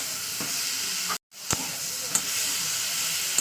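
Curry sautéing in a pan with salt and turmeric, a continuous close hiss and sizzle of frying with brief stirring scrapes and one sharp clink, no talk.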